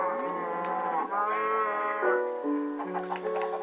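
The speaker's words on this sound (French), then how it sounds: "Ici c'est la ferme avec les vaches" Cattle lowing on a farm in the Minecraft video game, a steady run of overlapping moos lasting the whole stretch, fairly loud and close with no voices over it.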